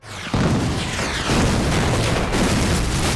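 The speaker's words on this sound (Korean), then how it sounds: "폭발에도 아랑곳하지 않고 멋있게 등장하는 가토와 교관들" A loud, sustained blast in a war scene filmed on a set at the Hapcheon film theme park for the martial arts film Fighter in the Wind, a deep rumbling roar that starts abruptly and carries on for about three seconds, with no voices.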